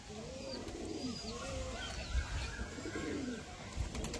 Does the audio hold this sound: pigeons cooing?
yes